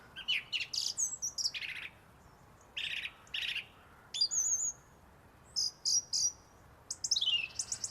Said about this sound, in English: The sound of one of our most competent songsters, the song thrush.